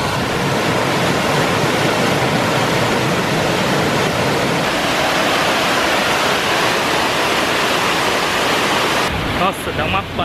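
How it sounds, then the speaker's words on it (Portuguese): Loud, steady rush of a mountain stream tumbling over rocks, a dense continuous roar close by that fills the scene throughout, with a brief shift near the end. "Nossa, dá uma paz, cara, escutar esse barulho de água."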